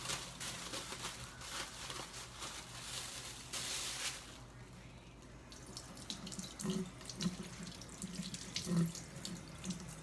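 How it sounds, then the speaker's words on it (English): A tap runs into a sink while hands are washed free of fabric dye, a steady close hiss of flowing water with brief splashes and shifts as the hands move under the stream. No one speaks. "I think I got a little bit of dye on there, so that's why I'm washing mine."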